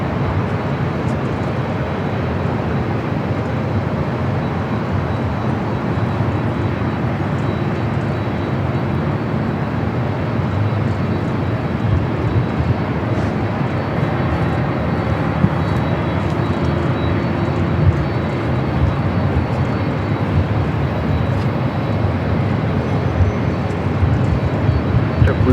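A Boeing 747 arriving on the south side at LAX, a loud continuous broadband roar of jet engines that holds steady throughout, heard from a distance at the airport with no talk.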